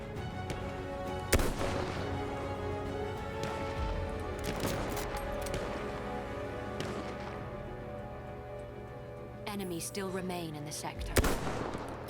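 Battlefield 1 gunfire cracks out in a few sharp shots spaced several seconds apart over a steady rumbling battle ambience, with tank and machine noise beneath and people talking over the top.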